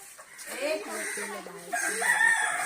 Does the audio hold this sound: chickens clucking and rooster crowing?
yes